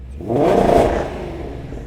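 A stock Ford Mustang GT350 exhaust revs once, swelling into a deep, raspy roar and then easing off, heard up close.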